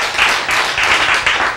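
An audience claps in a Korean lecture hall, a brief burst of dense, crisp hand claps in uneven pulses, loud and close with no talking over it.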